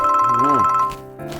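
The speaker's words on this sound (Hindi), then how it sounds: "आपका कब से फोन बज रहा है, आप उठा क्यों नहीं रहे?" A telephone ringtone rings loudly with a repeating electronic melody, cut short, followed by a brief burst of talk.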